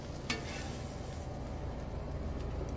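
Food sizzling in a hot pan on a griddle while making chicken fried rice, a steady faint hiss and crackle with one brief clink of stirring near the start.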